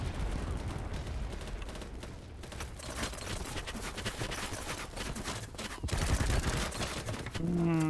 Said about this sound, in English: There's so much gunfire, man.